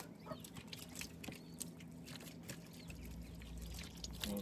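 Water pours steadily while sheep meat from a home-butchered Dorper ewe is rinsed, a continuous broadband splash and trickle at close range, growing heavier toward the end.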